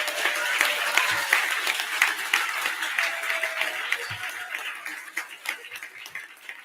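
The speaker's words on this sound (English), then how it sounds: "give a big round of applause to all the teachers who are here with us today" An inauguration-day crowd claps for the teachers in attendance, a sustained wash of applause from a large audience with a few scattered laughs and murmurs, gradually easing off toward the close.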